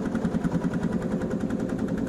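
Lanz Eilbulldog vintage tractor engine in Farming Simulator 22, a steady, rhythmic chugging thump repeating at an even pace, moderately loud, with no voices.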